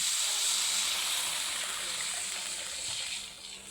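Water pours steadily into a pot of sautéed aromatics and tomatoes for sinigang made with blue marlin belly, a continuous close hiss and trickle that holds for several seconds and fades slightly at the end.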